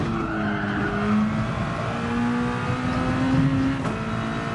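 A race car on the Barcelona circuit in a racing game holds full throttle, its engine a steady high-pitched whine with rising tones and faint tire squeal, loud and continuous with no talk.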